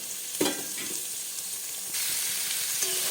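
Boiled cauliflower fries in a pan with a ground green chilli spice paste, a close, steady frying sizzle with a couple of stirring scrapes and a louder hiss building toward the end.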